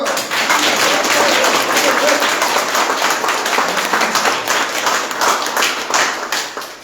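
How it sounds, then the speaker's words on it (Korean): A crowd at a campaign office opening for a provincial council candidate breaks into dense, loud applause that holds steady throughout, with voices mixed into the clapping. "박수 박수"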